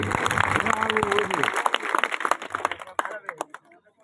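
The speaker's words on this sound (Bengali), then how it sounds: "সবাই একটা হাততালি" Audience clapping at a crest presentation during a tournament ceremony in Sunamganj, a dense burst of applause under a speaking voice that thins into scattered claps by the end.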